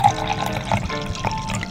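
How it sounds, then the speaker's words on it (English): Wine poured into a glass, a brief steady trickling, gurgling splash heard up close, continuous throughout. "I'm out of wine. So I'm gonna pour some"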